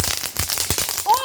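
Fourth of July fireworks crackle in rapid, irregular bursts of sharp pops, loud and close, with a brief voice at the end.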